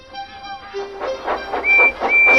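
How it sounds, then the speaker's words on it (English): A steam train arrives in a storybook setting, its whistle tones and rhythmic chuffing getting louder as it draws near. "Soon Percy arrived with the breakdown train and some empty trucks."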